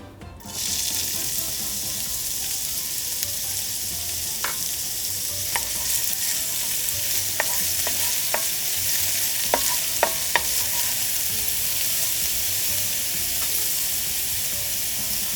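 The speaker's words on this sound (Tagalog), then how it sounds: "At pagkatapos ay igisa na natin dito yung sibuyas" Onions sautéing in hot oil for Filipino-style spaghetti, a loud, continuous close-up sizzle with occasional light clicks of a utensil stirring the pan.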